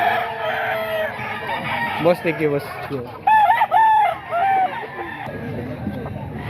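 A rooster crows a couple of times at a crowded cockfighting-pit market stall, its calls rising over close conversation and background crowd noise.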